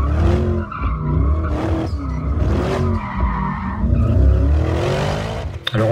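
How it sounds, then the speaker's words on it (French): Porsche Cayenne Turbo GT with its V8 biturbo engine, exhaust tuned for extra noise with heavy crackle, roaring loudly and continuously with rising and falling revs and a few sharp pops near the end. "On a énormément de retours dans cet échappement, enfin voilà, ça fait vraiment artificiel."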